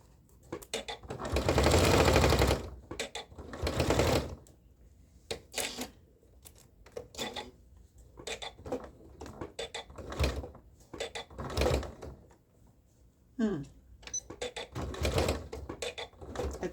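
A home sewing machine stitches a seam on a Butterick 6942 lined top with boning, running in several close, loud bursts of rapid whirring separated by short pauses and small clicks.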